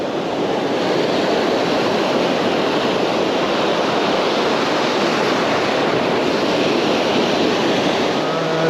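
Steady, loud roar of open-ocean surf breaking on a sandy beach, a continuous wash of waves with some wind noise and no talking.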